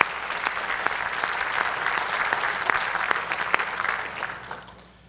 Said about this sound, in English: one more round of applause for our 7 student athletes.